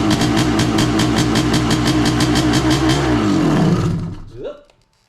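A Honda CR500 two-stroke engine on a Schwinn project bike fires up with the choke on and revs hard in a loud, rapid, buzzing roar, then shuts off and winds down into near silence.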